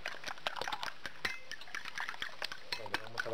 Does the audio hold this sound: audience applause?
no